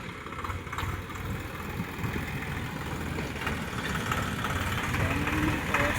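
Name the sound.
Swaraj tractor engine idling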